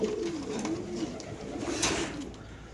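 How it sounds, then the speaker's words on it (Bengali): A Pakistani pigeon cooing close by, a few soft low rolling coos in sequence over faint background noise. "আমরা একটু কবুতরটা আপনাদের দেখাই দিই"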